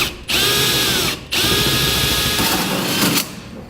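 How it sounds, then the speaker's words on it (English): A power drill spins a hole saw to cut a 4-inch hole through the metal bed of a 2015 GMC Sierra 3500 pickup, running loud and close in two steady bursts with a brief pause between. "we'll use this pilot hole for our hole saw to make a 4-inch diameter hole."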